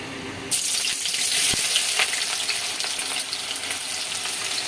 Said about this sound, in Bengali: এই যে পেঁয়াজটা দিলাম, এবার পেঁয়াজটাকে একটু নেড়ে নিই।